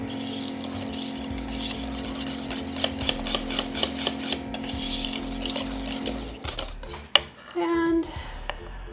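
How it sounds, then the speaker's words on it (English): A whisk beats egg yolk into grits in a bowl, with rhythmic metal scraping and clinking against the sides, close and fairly loud, ending in a few louder knocks and a ringing tap on the rim. "Whisk in the yolk."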